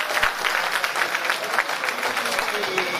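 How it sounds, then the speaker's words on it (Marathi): Loud applause from a crowd at a public programme, thanking its organisers and sponsors, with dense continuous clapping held at a steady level throughout and a faint murmur of voices beneath it. "त्या सर्वांचा एकदा जोरदार टाळ्या वाजवून आपण त्यांना धन्यवाद देऊया"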